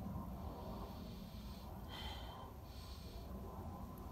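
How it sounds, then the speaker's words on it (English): Someone takes two quick, close nasal sniffs of a bottle of magical oil, soft airy snorts over a faint steady background hiss with no talking. "a little sniff."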